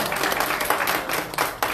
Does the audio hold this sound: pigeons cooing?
no